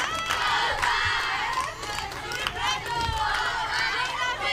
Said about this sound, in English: You can tell with how loud these dugouts are, the crowd